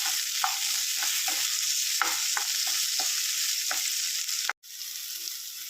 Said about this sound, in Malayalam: ഇതെല്ലാം കൂടെ ഈ ഉള്ളി നല്ലപോലെ ഒന്ന് ബ്രൗൺ കളറായി വരുന്നിടം വരെ നല്ലപോലെ ഇളക്കി കൊടുക്കാം